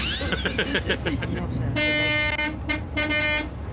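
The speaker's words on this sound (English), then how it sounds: "You just love that honking" Loud, repeated horn blasts from a large vehicle, a long blare followed by shorter honks, amid busy traffic noise and chatter.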